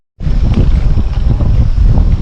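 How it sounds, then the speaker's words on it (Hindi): Wind gusts across an open cricket ground, buffeting the microphone with a loud, close roar that rumbles low and fluctuates without pause after a sudden start. "मस्त हवा चल रही है"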